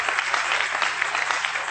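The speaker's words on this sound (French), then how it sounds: "Acclamons très fort pour lui." Loud, steady applause from a church congregation during a French-language sermon, a dense wash of clapping that fills the whole moment without pause.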